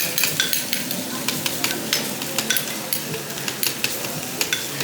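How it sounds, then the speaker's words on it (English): Steady loud sizzling of food frying in a hot pan, with frequent sharp clinks and scrapes of a utensil stirring, close up. "So you can hear the sizzling, yeah?"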